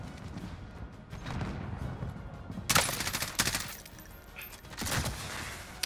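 Gunfire in the video game Call of Duty Warzone, with a sniper in play: a couple of sharp, loud shots followed by bursts of rapid fire over a steady game ambience, with no talking.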